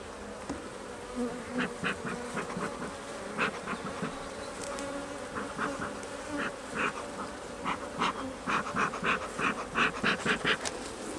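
Honeybees hum loudly around an open hive during an inspection, with a steady close drone and individual bees buzzing past in short, repeated bursts.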